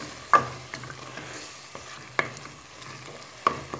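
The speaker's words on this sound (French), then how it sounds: "Je vais encore les faire revenir avec les épices" Meatballs browning with spices in a pan for a meatball and spinach tajine, with a few distinct spatula knocks and stirring scrapes over a soft, continuous frying hiss, close and fairly quiet.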